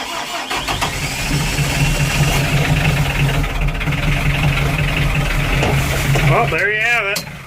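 Cold-started McCormick tractor diesel idling roughly on a freezing day after glow-plug warm-up, a steady loud knocking chug running throughout, with a brief squealing sound near the end.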